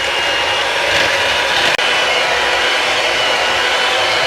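Electric hand mixer running on low while blending oatmeal chocolate chip and raisin cookie dough, a steady whirring motor drone held throughout with one brief click partway.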